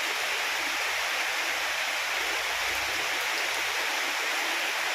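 A heavy downpour over farm fields makes a constant, loud, close rushing roar, unbroken from start to finish with no speech over it.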